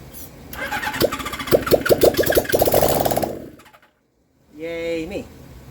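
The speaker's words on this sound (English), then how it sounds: "we'll have ourselves a running motorcycle" A Suzuki GS750 motorcycle engine cranks and catches, running roughly with rapid firing pulses for a few seconds before cutting out; a brief voice follows.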